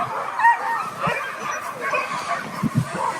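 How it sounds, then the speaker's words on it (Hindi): Husky dogs at a husky sledding centre in snowy Finland yip, whimper and bark in a busy, overlapping chorus, several animals at moderate distance, continuous and fairly loud. "कितने सारे कुत्ते हैं यहाँ पर, इन्हें हस्कीज कहा जाता है, जिनके जरिए हम हस्की स्लेडिंग करेंगे"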